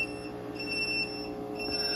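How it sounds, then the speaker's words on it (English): A Growatt / EG4 home battery system sounds a steady electronic alarm, a continuous high-pitched beeping tone with a faint electrical hum beneath, heard alone with no talking. "Actually, I got an alarm on them as well."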